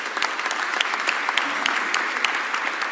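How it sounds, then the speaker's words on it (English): Audience at a Philadelphia press event about the Sixers arena applauding Mayor Cherelle Parker, a loud, sustained round of dense clapping with sharp individual claps standing out. "let's give our Mayor Sherelle Parker a real big round of applause"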